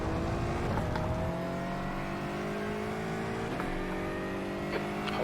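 Aston Martin GT4 race car engine in iRacing drones steadily at high revs, with rising gear-pull tones and brief shifts, other cars faintly nearby, loud and continuous.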